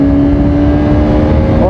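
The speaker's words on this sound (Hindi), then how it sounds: "जैसे कि अभी आपको एग्जॉस्ट की वॉइस आ रही होगी" A loud, steady exhaust drone from a Bajaj Pulsar RS 200 BS6 motorcycle, held at a constant pitch, close by, with no talking over it.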